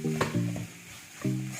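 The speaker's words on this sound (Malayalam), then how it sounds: "ഇനി നന്നായി ഒന്ന് മിക്സ് ചെയ്ത് കൊടുക്കാം. നന്നായി മിക്സ് ചെയ്തെടുക്കണം." Prawn biryani masala stirred in a pan, a few short scraping and sizzling strokes with a pause between, close and alone.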